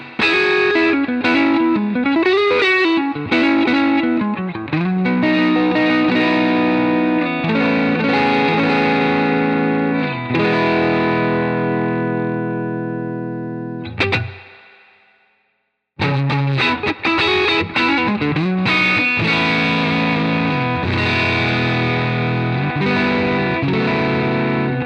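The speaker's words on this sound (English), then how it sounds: "it can go from mild bluesy breakup to full smooth Dumble-Style Overdrive" An electric guitar plays through a J. Rockett Dumble-style overdrive pedal, smooth and saturated, sustained notes and bends ringing out, a brief near-silent pause midway, then the playing resumes.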